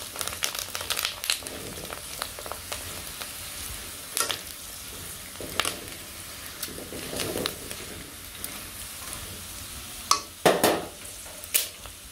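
Chips fry in a pan with a soft, continuous sizzle at moderate distance, punctuated by intermittent clicks and a few sharper clatters near the end.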